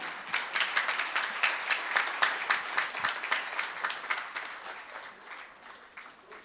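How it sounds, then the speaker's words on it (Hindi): Loud audience applause at a Steelbird Helmets memories event, crisp dense clapping that swells early, holds strong, then gradually thins and fades toward the end. "और मेरे ख्याल से एक बार जोरदार तालियां हो जाए सुभाष जी के लिए।"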